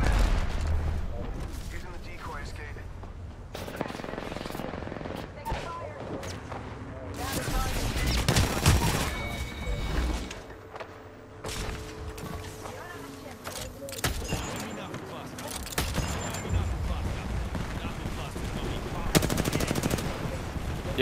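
Rapid bursts of automatic gunfire and single shots crackle through a squad-based video game firefight, with occasional heavy blasts, loud and continuous over about twenty seconds while players talk over the action.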